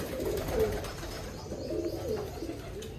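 A sick pigeon coos softly in a quiet room, a few faint, low, repeated calls over a light background hiss.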